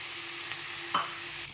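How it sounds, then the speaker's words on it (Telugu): Moong dal frying in a pan: a quiet, steady sizzle with a brief stirring scrape partway through. "ఇలా పెసరపప్పుని మంచిగా ఫ్రై చేయాలి"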